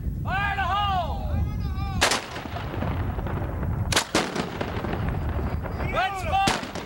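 Cannon firing during a safety drill: sharp, loud booming reports ring out, three or four blasts spread across several seconds with echoing decay, while commands and voices are heard between the shots.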